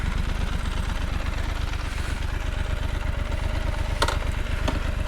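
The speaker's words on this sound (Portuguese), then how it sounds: "Deixei a moto ali ligada porque ela tá com a ventoinha acionada, né?" A motorcycle left idling beside a rural highway with its cooling fan switched on, giving a steady, close, low pulsing engine rumble throughout with a faint whir on top and a couple of brief clicks near the end.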